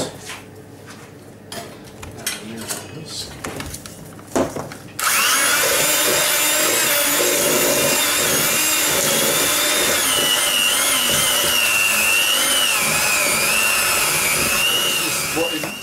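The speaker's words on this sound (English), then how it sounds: "Get it to a sort of a sandy texture, and then you can start whisking." An electric whisk beats butter icing in a bowl, starting after a few seconds of clinks and handling noises, then running as a loud continuous whirring buzz that shifts pitch slightly as it works.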